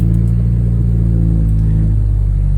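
Acura RSX with a K24 engine and an Invidia N1 catback exhaust idling after a cold start, heard from inside the cabin as a steady, loud, bassy low drone with no talking.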